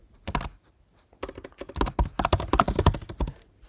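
Keystrokes clatter on a computer keyboard in two quick bursts of close, crisp typing separated by a short pause.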